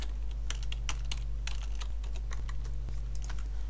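Rapid keystrokes on a computer keyboard while filling in an online exam-booking form, a steady run of clicks over a low constant hum.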